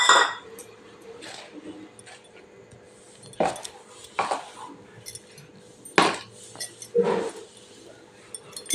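A spoon stirring a hot kadakani mixture in a metal pot, with sharp scraping clinks recurring every second or so, loud and close, and a voice speaking between them.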